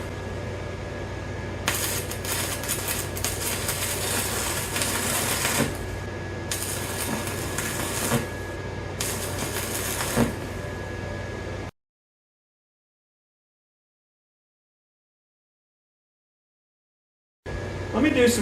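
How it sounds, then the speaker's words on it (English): Stick welding along the edge of a steel piece clamped in a vise, filling an edge hole: steady crackling, hissing arc noise for about twelve seconds, briefly broken, then silence before a short loud burst of sound at the end. "I'm going to weld on the edge to see if I can fill in a little bit of an edge hole here."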